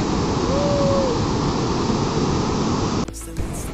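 Floodwater after heavy rain in Hyderabad rushes forcefully in a dense, loud, steady roar, close by and unbroken, with a brief handling rustle near the end.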